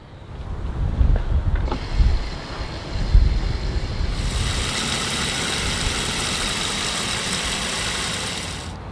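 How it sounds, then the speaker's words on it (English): Water rushes from a tap valve through a garden hose in a steady broadband hiss that rises sharply after a few seconds, following some close handling thumps and knocks at the tap. "The water's going out to the backyard, so it won't make this area all wet."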